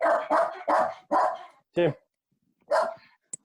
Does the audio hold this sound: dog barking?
yes